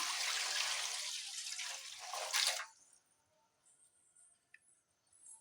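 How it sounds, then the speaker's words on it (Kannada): Water pours into a kadai in a broad, hissing rush for about two and a half seconds, then stops abruptly, leaving quiet with faint drips and clinks. "ಕಡಾಯಿಗೆ ಸ್ವಲ್ಪ ನೀರು ಹಾಕ್ತಾಯಿದ್ದೀನಿ ನಾನು"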